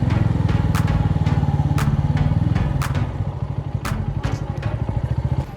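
A motorbike engine runs steadily close by with a chugging low drone and some clatter, the engine note easing slightly partway through, with no talk over it.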